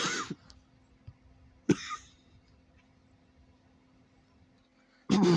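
A few separate coughs and throat-clearing sounds, close by in a quiet room, with a louder burst at the very end.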